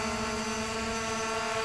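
A FIMI X8 SE drone hovers in strong wind carrying a 0.236 kg load, its motors spinning fast in a steady, loud, tonal whine with layered harmonics and a windy rush beneath.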